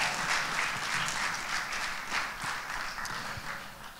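Guests at a French wedding blessing ceremony applaud the couple, a moderately loud round of many hands clapping steadily through the hall for several seconds.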